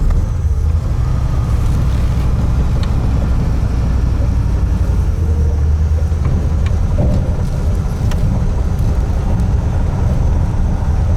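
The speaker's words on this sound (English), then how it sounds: "Really idling nice now." A 1949 Lincoln engine idles steadily at close range, a continuous low rumble with a few faint clicks and rattles over it and no talk.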